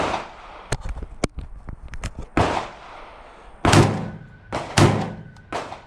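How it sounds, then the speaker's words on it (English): A 12 gauge Black Aces Tactical Pro Series bullpup shotgun with a V6 Industries muzzle brake fires buckshot, several loud, sharp blasts spaced a second or so apart among smaller clicks and clatter, close to the listener. "Fire some buck out of this thing."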